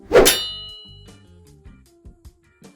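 A single bright metallic clang of sword blades rings out loudly and decays slowly, followed by a few fainter soft taps.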